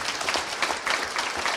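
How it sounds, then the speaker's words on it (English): Audience at a palliative care panel discussion gives a round of applause for opening remarks, a brief, close, busy burst of clapping with no voices over it. "can you give him a round of applause for his opening remarks?"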